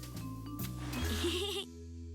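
A sheep gives a single drawn-out, wavering bleat close up, alone without talk, ending abruptly into quieter background.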